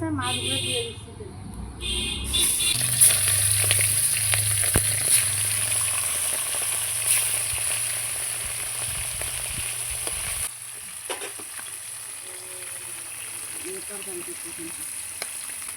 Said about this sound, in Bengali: তেল গরম হয়ে গেছে, মাছগুলো দিয়ে দিচ্ছি তেল।